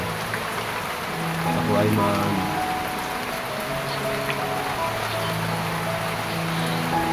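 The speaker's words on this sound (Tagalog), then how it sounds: "Kaya mababasa talaga tayo ng ulan." Steady rain falls during a flood, a continuous hiss of drops on surfaces and water that runs through the whole stretch, with a voice talking briefly over it.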